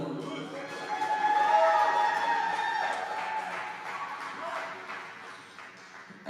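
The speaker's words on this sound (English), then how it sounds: "And let's give a big round of applause for Thunder Valley." Audience applause and cheering at the Oceti VOTE 2022 gathering for Thunder Valley, a broad wash of clapping with shrill whoops and yells that builds, peaks early and slowly fades.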